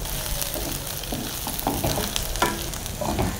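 Onion, garlic and dried red chillies sautéing in hot oil for a garlic chutney, a steady close sizzle broken by scraping stirs, with no talk.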